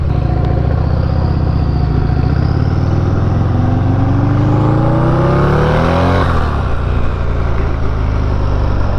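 Turbocharged Harley-Davidson motorcycle with a C18 engine making about 260 horsepower, loud and close as it accelerates hard, its rising engine pitch sweeping upward through the gears with a brief turbo whine before easing off.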